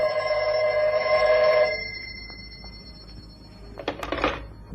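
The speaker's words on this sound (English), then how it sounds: "when the phone rang" An office telephone rings with a bright bell tone, one sustained ring that stops, followed by quieter handling sounds and a short clatter as the receiver is picked up.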